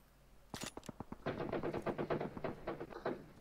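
Video game gunfire: a few separate sharp shots, then sustained rapid automatic bursts, loud and close.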